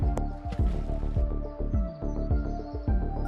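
In a golf video game, a golf ball splashes into water as a wet, squishy plop, heard over dense game music and effects.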